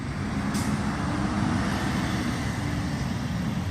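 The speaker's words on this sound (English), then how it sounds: "Excuse the trash truck. Sorry, it's loud." A loud garbage truck rumbles by on a residential street near a backyard chicken coop, a steady heavy engine drone with a brief hissing burst near the start, close and filling the whole clip.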